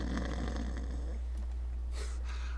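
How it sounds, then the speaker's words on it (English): A person snoring, a rough, breathy rasp that rises and fades over a steady low hum, with no talking. "I can hear her snoring from here."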